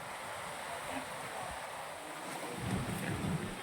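Strong waves pound a beach where pumpboats sit during Typhoon Kristine, a continuous loud roar of surf mixed with gusty wind buffeting the microphone, with no voices.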